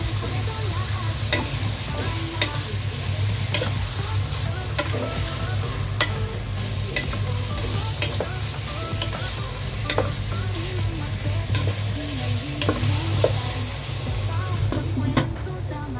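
Beef frying in added oil in a pan for kaldereta, a loud continuous sizzle with crackles and occasional sharp stirring clicks, close by and without talk.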